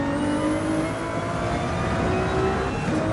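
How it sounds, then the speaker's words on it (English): A Ferrari 296 race car in a Gran Turismo endurance race roars on steadily, its engine note climbing and holding under load in a continuous loud whir with no voices. "It's just so good to hear the Ferrari."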